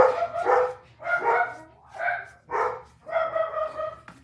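Several dogs bark in a rapid series of five loud, close bursts, yappy and slightly whiny, with brief pauses between them.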